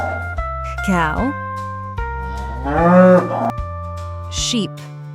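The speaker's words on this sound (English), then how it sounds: "Cow." A cow moos close by, with a long, loud moo followed by a shorter one, heard over a steady backing music bed.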